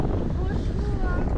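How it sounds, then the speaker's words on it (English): Big waves churn around an ocean racing yacht out at sea, a continuous rushing wash of water heavily mixed with wind buffeting the microphone, with people talking faintly underneath. "Oh, big waves."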